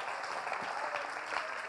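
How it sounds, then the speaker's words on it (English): A church congregation claps hands during a sermon, a continuous, fairly faint crowd of clapping with no clear individual beats and a slight murmur beneath. "clap your hands to the Lord"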